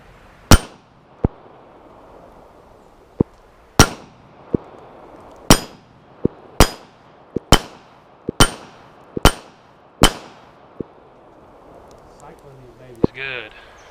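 Kel-Tec PMR-30 pistol firing at a black steel plate: about a dozen sharp, loud shots at an irregular pace, several followed by a bright metallic ring of the plate being struck, with a brief voice at the end.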